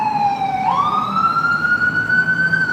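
An ambulance siren passes close by on a street near a hospital, a loud steady wail that dips and then sweeps upward and holds, with traffic rumble beneath.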